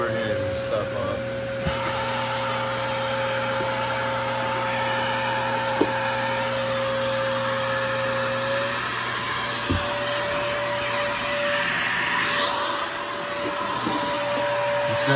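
Hoover or Bissell canister vacuum cleaner running with the power head removed, a loud steady whooshing drone with a high tonal whine, continuous throughout, a few faint clicks, no talk.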